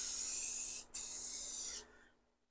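Two bursts of Rust-Oleum gold spray paint hiss up close from a can fitted with a 3D-printed spray tip adapter, a short one followed by a longer steady blast after a brief pause, then quiet.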